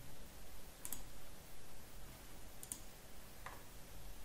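A computer mouse clicks on a software menu, three sharp, isolated clicks spaced a second or two apart over a quiet, faint background hiss.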